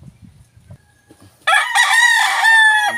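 A wild red junglefowl (labuyo) rooster crows loudly and close by in one long, harsh cock-a-doodle-doo, following a few soft clucks and quiet rustling.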